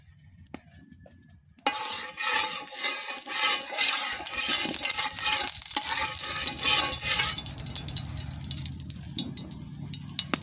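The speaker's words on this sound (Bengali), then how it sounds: "এখন গরম তেলে মাছগুলো দিয়ে দিব।" Taki fish frying in hot oil, which rushes into a loud, dense sizzle after a brief quiet start and then settles into steady bubbling with a few utensil clinks.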